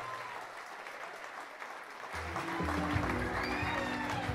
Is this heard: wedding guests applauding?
yes